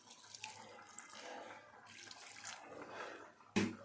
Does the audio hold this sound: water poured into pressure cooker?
yes